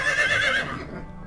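A horse in a video game lets out one loud, close whinny that fades after about half a second.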